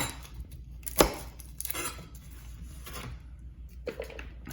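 Kitchen knife chopping the root end off a garlic clove on a cutting board, one sharp close knock followed by a few softer taps and scraping of the blade.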